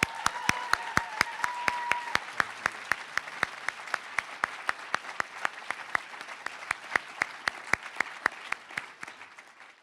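An audience at a Veritas Forum talk at Pepperdine applauds Randy Harris, steady clapping with one sharp, regular nearby clap standing out, fading slightly at the end.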